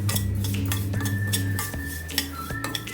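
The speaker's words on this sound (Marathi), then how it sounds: "रोस्टेडच असतात तरी पण ह्या थोड्याशा अशा मी परतून घेते इथे" Vermicelli roasting in a pan for kheer, with a spoon stirring and scraping against the metal in repeated clinks over a steady low kitchen hum.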